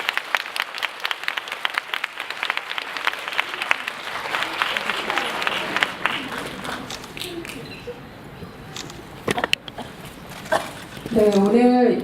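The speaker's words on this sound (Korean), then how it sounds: "여기 입장하기까지 좀 길어서 박수를 좀 길게 부탁드립니다." Applause from a sold-out Korean cinema audience greets guests walking onstage for a post-screening talk. The clapping is brisk and busy, then thins out and fades as a voice starts speaking over the room near the end.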